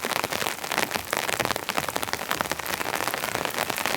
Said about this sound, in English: I can just sit and watch the rain come in and be sheltered